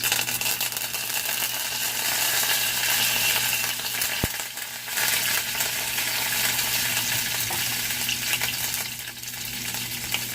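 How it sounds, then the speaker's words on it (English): Urad dal and chana dal crackle and spatter in hot oil as a South Indian seasoning for oyster mushroom masala, a continuous dense sizzle with one sharp pop, close and loud with no talk. "So this is a usual way of seasoning in South Indian dishes. Once everything spatters, add curry leaves."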